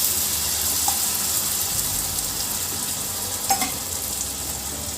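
Puree of two tomatoes and two green chillies hits hot oil and spices in a pan for an arbi and makhana curry, giving a loud, steady close-up sizzle with a couple of faint clinks and no talking.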